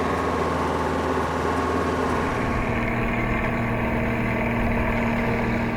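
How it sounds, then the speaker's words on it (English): A heavy diesel engine of a classic 1970s four-wheel-drive tractor runs steadily and loudly throughout, a continuous rough drone that shifts slightly in tone partway through. "There's something magnificent about driving this tractor."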